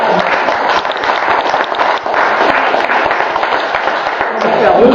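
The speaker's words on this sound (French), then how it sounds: "je vous demande de l'applaudir parce que ça me fera plaisir" Audience at an election event applauding, a dense continuous round of clapping held at a steady, fairly loud level throughout.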